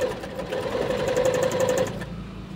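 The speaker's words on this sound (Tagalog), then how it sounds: "apakan niyo po yung pinakapakan niya para tumakbo yung ating makina." A Hiland TF-5000 sewing machine runs with its pedal pressed, giving a steady close whirring hum for about two seconds before it stops.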